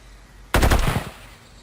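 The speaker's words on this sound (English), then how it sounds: "Just once you have a steady aim, take the shot." A rapid burst of gunfire in a Project Zomboid lore animation, several close, loud shots in quick succession that then fade, with no talking.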